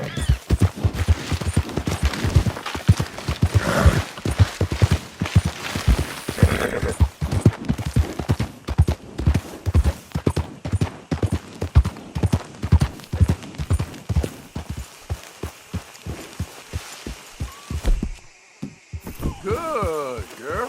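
Horse hooves clip-clop rapidly and steadily in a galloping rhythm as a horse is ridden through tobacco fields near stables in a video game, loud and close, with brief talk near the end.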